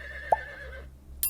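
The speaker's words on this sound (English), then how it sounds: "horse" A horse gives a short neigh, a brief loud whinny burst over a low steady hum, with a faint sharp sound at the very end.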